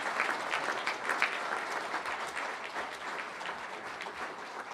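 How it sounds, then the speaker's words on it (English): Audience at an awards celebration claps steadily for several seconds, a dense, even wash of hands filling a large room with no voices over it. "they definitely deserve a round of applause"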